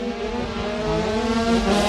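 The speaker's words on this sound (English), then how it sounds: "Jay Abel, who is revving the thing as he comes down the home straight" Race car engine revving hard down the home straight at a circuit race meeting at Rowrah, a loud rising tonal roar with strong harmonics that climbs steadily and holds close, with no voices.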